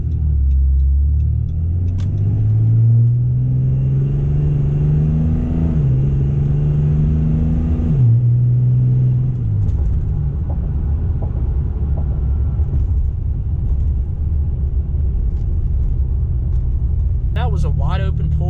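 A Cummins diesel truck makes a wide-open pull, its deep engine drone rising steadily in pitch through the gears with audible shifts, loud and continuous from inside the cab.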